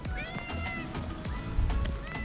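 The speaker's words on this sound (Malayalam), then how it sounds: "Persian cat." A Persian cat meows several times at close range outdoors on an island in the Azores, amid mist and light rain, with a steady background murmur and no talk.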